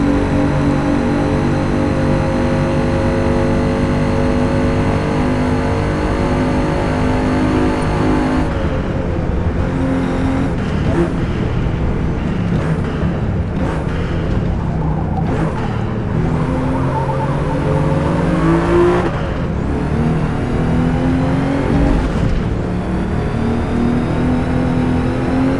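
Race car engines in Forza Motorsport, with a loud, continuous engine note that shifts pitch as the car revs, brakes and accelerates through corners, with no talking over it.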